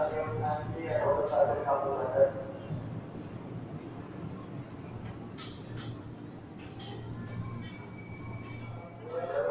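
A JR 205 electric commuter train rolls into Manggarai station from the Bogor direction with a long high-pitched wheel squeal and a low rumble, metal scraping intermittently as it slows, fairly close.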